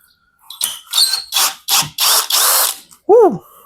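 A cordless STR ST717 three-mode impact drill with 150 Nm of torque and anti-kickback protection backs a screw out in a series of loud, rattling ratchet bursts, with a brief squealing chirp at the end.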